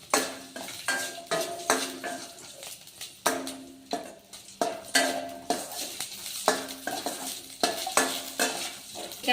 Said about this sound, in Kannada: ಈಗ ಈ ರೀತಿ ಮೆಣಸಿಕಾಯಿ ಹುರ್ಕೊರಿ